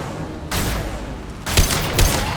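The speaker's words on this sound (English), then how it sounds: "Firing an impact shot!" Impact-shot gunfire in the video game Mass Effect 2 erupts in loud, close bursts, a sustained barrage followed by two sharp heavier blasts in quick succession.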